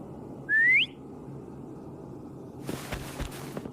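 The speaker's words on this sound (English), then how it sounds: "Try whistling." A single short rising whistle in the video game Wuthering Waves, clear and up close, followed a couple of seconds later by soft rustling movement.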